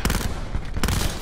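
Gunfire from the video game Call of Duty Black Ops 4 comes in two dense bursts of rapid shots separated by a short gap, loud and close, with no talk.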